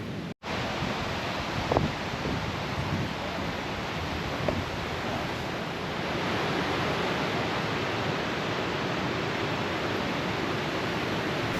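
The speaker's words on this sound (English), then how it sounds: "the sound of rushing water pulls you forward" Rushing water of a waterfall at Burgess Falls, Tennessee, a broad steady roar that holds unbroken for the full length and grows slightly fuller partway through, with no voices.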